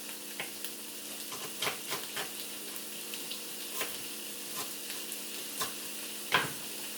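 An onion mix for a vegan meal simmers in a pan with a soft, steady bubbling sizzle, broken by scattered light clicks and taps of a utensil, fairly quiet and close.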